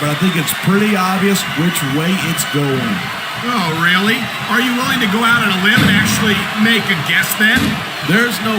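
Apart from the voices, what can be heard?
No distinct noise like a dog, phone or traffic.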